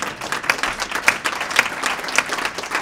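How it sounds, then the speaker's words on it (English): Audience applause at a talk, a steady wash of many hands clapping, moderately loud and sustained throughout with no voices over it. "You can applaud."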